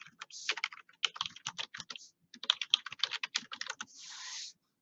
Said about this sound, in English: you could type it here